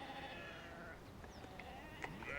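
Sheep bleat faintly at a distance beside a North Sea dike, with a few short calls over steady outdoor background noise.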